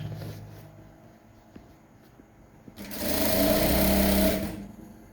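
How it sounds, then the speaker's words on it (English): A sewing machine stitching trousers runs in a loud, steady whirring burst of about one and a half seconds, following quieter handling noises. "stitch all through to the very end"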